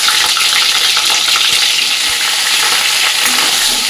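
Chicken sizzles and spits in hot mustard oil with bay leaf and dried chillies in a wok, a loud, continuous frying hiss close by with occasional stirring clicks and no talking.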